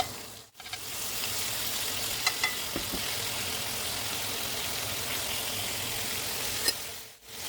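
Garlic, parsley and leftover pork chop pan juices sizzling in hot oil, a steady close frying hiss with a few soft stirring clicks and no talking.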